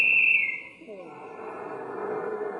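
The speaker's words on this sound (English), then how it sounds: "And then the final whistle blew." A sharp, high whistle blast sounds at the start, then fades into a low murmur of crowd noise in the background.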